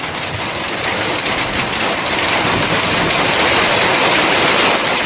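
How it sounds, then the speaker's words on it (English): Heavy rain pours down on a campsite, a loud, constant broadband hiss of drops drumming on surfaces with no break, steady from start to finish. "this is the most rain I have seen since I've been at Bones Yard"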